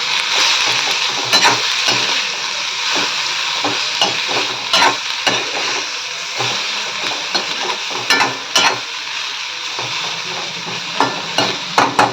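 Potatoes fry in a hot pan while a utensil stirs and scrapes them, giving a steady close sizzle broken by frequent clinks and knocks against the metal.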